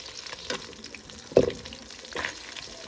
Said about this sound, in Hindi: फिश जी हमारी बिखर चुकी है, लेकिन जो फ्राई हो रही है वो बहुत ही मज़े की हो रही है